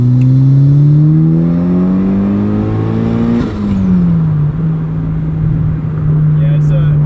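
A turbocharged 2003 Mazda Miata NB (240 whp) engine revs hard, its note climbing steadily to a peak, then dropping abruptly as the throttle lifts and settling into a lower steady drone. A voice talks briefly over it.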